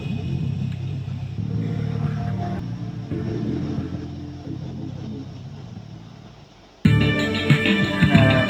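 A car in the video game Sift Heads World pulls away with a steady low engine rumble that swells and fades, then a louder burst of game sound cuts in near the end.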